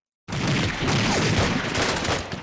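Sustained gunfire from the wargame Hex of Steel starts abruptly after a brief silence and rolls on as a dense, loud volley of overlapping shots, no talking over it.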